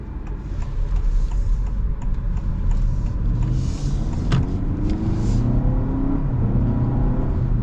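A 2026 Honda Civic Hybrid accelerating, heard from inside as a steady low engine drone and whir that gradually rises in pitch, smooth and continuous with no talking.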